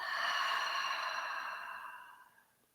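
A single deep exhale out through the mouth, a soft breathy sigh that starts strong and close, then fades out slowly over a couple of seconds.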